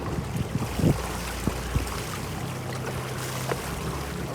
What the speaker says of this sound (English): I'm gonna just throttle a little bit up against the dock lines.